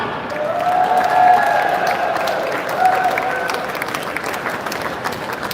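Loud, sustained applause with some cheering from an audience at the Detroit auto show charity preview ribbon cutting ceremony, swelling then easing, with a raised voice briefly audible over the clapping.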